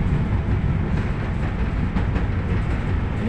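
A new tram rides through Krasnodar with a continuous loud rumbling roll and a few faint rail clicks, heard from inside the car with no talking.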